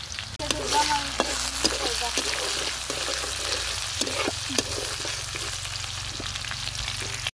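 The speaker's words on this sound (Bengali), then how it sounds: "তেলের উপরে দিয়ে দেবো পেঁয়াজ কুচি, থেতো করে রাখা রসুন" Chopped onion and crushed garlic sizzle steadily in hot oil for a village-style polao, with occasional stirring scrapes and clinks over a continuous close frying hiss.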